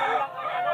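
A chicken at a pet market in Bulacan gives a short, close, raspy crow-like call, under a second long.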